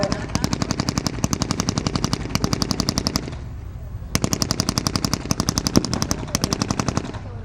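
Bursts of rapid automatic gunfire ring out at a 1940s-themed reenactment weekend, loud and sustained, with a brief pause midway before the firing resumes.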